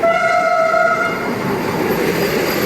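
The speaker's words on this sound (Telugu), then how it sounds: "అదిగోండి వందే భారత్ ఎక్స్ప్రెస్" Vande Bharat Express, the 20834 Secunderabad–Visakhapatnam service, runs past close by with a loud, steady rail roar. Sustained horn tones ring out over the first second or so before fading into the continuous rumble of the passing carriages.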